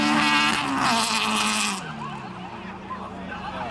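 A rally car at Spot Valley in 2009 crosses the flying finish with a loud, high-revving engine roar up close, which drops away sharply partway through to a fainter, receding drone.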